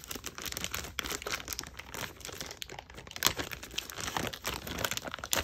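Plastic packaging crinkles and tears close by in irregular bursts of rustling as it is pulled open, with no one speaking.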